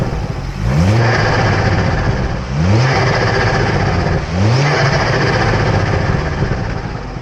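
Ford Focus XR5 Turbo engine revved three times in quick succession, each blip rising sharply in pitch with a loud intake whoosh and whir, then settling back to a steady, throaty idle between pulses.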